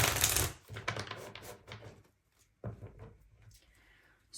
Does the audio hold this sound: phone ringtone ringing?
no